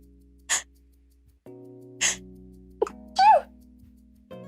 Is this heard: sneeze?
yes